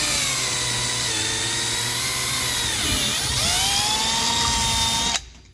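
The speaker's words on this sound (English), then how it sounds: "So we're gonna drill a hole and we'll see what we got. Try to drill this." A power drill cuts a hole in the door of a 2022 Can-Am Commander UTV, with a loud, continuous high whine up close that dips and rises partway through and then stops abruptly.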